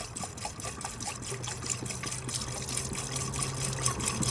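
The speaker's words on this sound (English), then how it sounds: "Let's put coolant in the cooling system." Coolant poured by hand from a jug into the cooling system of an overheated Chevy Cruze, a steady trickling, gurgling stream of liquid heard up close with no talking.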